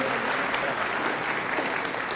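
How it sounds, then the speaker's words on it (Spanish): Steady, dense applause from a crowd at a conference talk on AI for advanced threat simulation, a continuous close wash of many hands clapping with no voices over it. "Aplausos"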